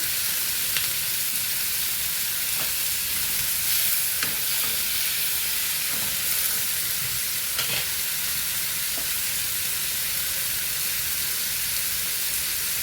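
Tomato chutney with tamarind frying in a pan, a continuous close sizzle and hiss with occasional stirring scrapes, no talk.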